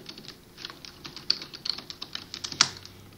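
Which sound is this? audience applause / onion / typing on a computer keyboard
typing on a computer keyboard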